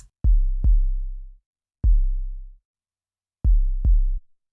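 Deep, booming sub kick hits from a subkick plugin in Logic Pro doubling a kick drum: a pair, a single, then another pair, each low thump ringing out before fading.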